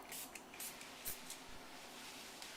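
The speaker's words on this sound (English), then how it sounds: "all we're going to do is spritz it on and just rub it in with a towel" Granite sealer spritzed from a spray bottle onto a quartzite countertop: a few quick, soft hissing bursts close by, with faint handling noises in between.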